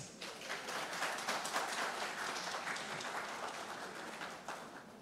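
A workshop audience applauding for a researcher, a dense continuous wash of clapping that holds steady then tapers slightly toward the end.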